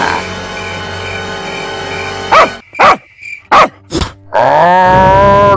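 A dog barks in sharp, loud bursts at close range, several barks and yelps in quick succession, set against a steady hum and some whining or tonal sounds before and after.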